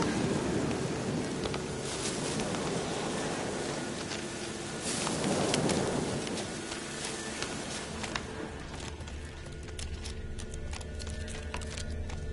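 Video game rain falls steadily throughout, with a low rumble of thunder swelling midway, a dense continuous wash of patter and occasional sharper clicks.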